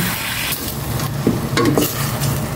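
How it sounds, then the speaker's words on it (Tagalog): Pork sautés in hot oil in a pan, a loud continuous sizzle close up, with stirring scrapes and rustles of the meat being moved around. "Igisa ko muna ito bago ko ikaduhan."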